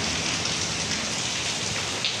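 Heavy rain pouring down in a steady, dense hiss of drops on surfaces, continuous and even throughout with no voices.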